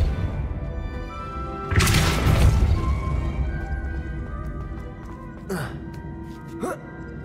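A Depulso spell impact in Hogwarts Legacy lands as a loud burst of crashing and thudding, followed by fainter sharp magical whooshes, over steady game ambience and music with a gasp-like voice.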